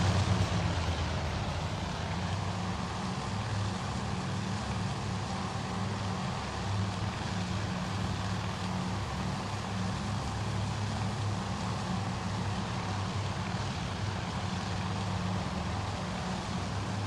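Bomber aircraft engines drone in Task Force Admiral, a steady loud low rumble with a broad noisy wash that holds unbroken throughout, with no voices.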